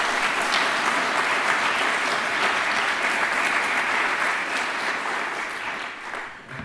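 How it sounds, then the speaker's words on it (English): Audience applauding after a lecture on mass incarceration, race and human rights, a full sustained round of clapping throughout that tapers slightly at the end. "Let's give David another round of applause."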